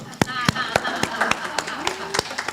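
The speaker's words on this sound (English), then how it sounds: "A round of applause." A few people clap in scattered, separate claps at a Sunday church celebration service, sparse and fairly close, with a voice speaking over them.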